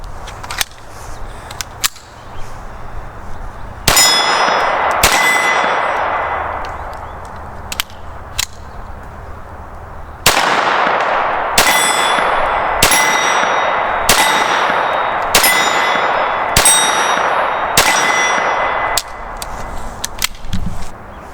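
.22 rounds fired from a Sig 22 conversion kit using Federal 40-grain bulk ammo, each sharp report followed by a ringing clang from steel targets, repeating in steady, loud succession.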